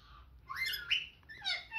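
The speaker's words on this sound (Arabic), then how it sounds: "هذا الكروان الاليف الحباب" A pet canary chirps and squawks in quick bright bursts at close range, a rapid run of high tweets and harsher calls within a couple of seconds, with no other sound.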